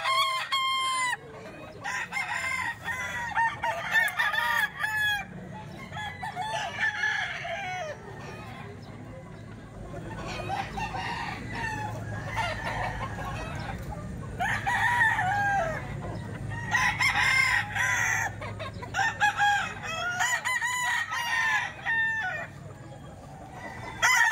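Many chickens and roosters at a Saturday poultry market in Baliwag crow repeatedly and cluck throughout, a dense, overlapping chorus of calls over a low crowd murmur.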